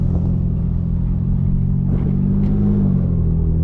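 A BMW E92 car engine and exhaust rumbling steadily while driving, a low continuous drone with slight rises in pitch, loud and close.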